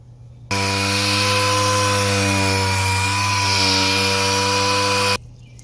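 Headlight lens wet sanded with 3M 1200 grit paper to clear yellowing: a loud, steady, droning whine that starts abruptly, holds evenly for about five seconds, then cuts off.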